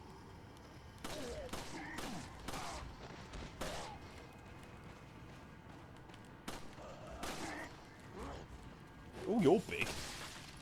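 Gunshots in Resident Evil 4 gameplay: several sharp, broadband shots spaced irregularly over a quiet bed, with a brief spoken remark near the end.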